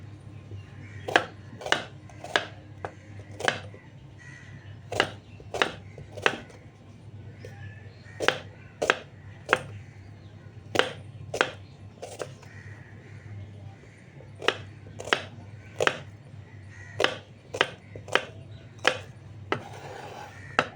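Ginger and garlic being finely chopped with a knife on a board for a katla fish curry, sharp regular chops repeating steadily in short bursts, close and clear over a low steady background hum.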